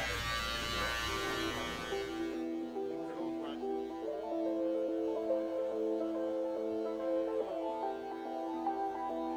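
Electric hair clippers with a number one guard, set two clicks open, cut hair for a fade, giving a steady close buzzing hum after a brief burst of broader noise at the start.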